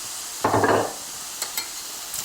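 Cauliflower rice in olive oil gets a single quick stir in the pan, a brief scraping sizzle burst, followed by a few faint clicks over a quiet background.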